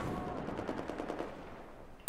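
Rapid automatic gunfire in Battlefield 4, a fast regular burst of shots that fades out over about two seconds, followed by a sharp loud hit at the very end.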